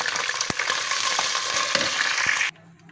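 Onions, tomatoes and green chillies frying in a pan for an arvi chicken dish, a loud steady sizzle with a few sharp stirring knocks, cutting off abruptly near the end into quiet.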